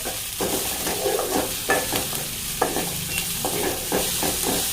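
Onions and salt stirred in a hot pan for soya chunks roast: a continuous close sizzle with rhythmic scraping strokes of the spoon against the pan, no voices.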